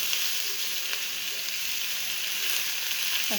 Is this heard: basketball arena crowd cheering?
no